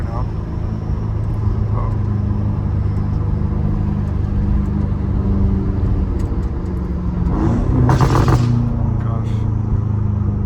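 A straight-piped BMW M5 Competition rumbles loudly and steadily from inside the car, rising into a sharp, louder burst of revving exhaust near the end, with a man's brief exclamations over it.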